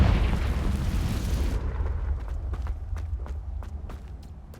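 A Confringo fire spell in the video game Hogwarts Legacy erupts in a loud, rumbling explosion that slowly fades, followed by a series of quick, light footsteps.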